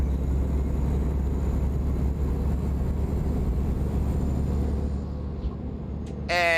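A loud, steady Peterbilt 389 glider truck engine drone in American Truck Simulator, heard with both windows down, with strong low rumble and wind-like roar, continuous throughout, easing slightly near the end with a brief tonal whine.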